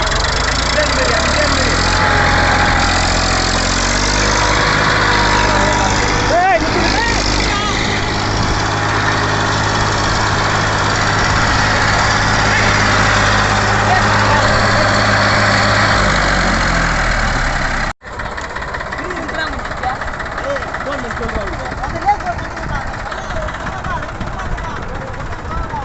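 Massey Ferguson 241 tractor engine running loud and steady in a village for most of the clip, then cutting off abruptly, with a quieter rumble and voices continuing afterward.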